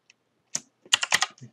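Keys on a computer keyboard tapped in a short burst: one faint click, a pause, then a quick run of close, crisp keystrokes, with no talking.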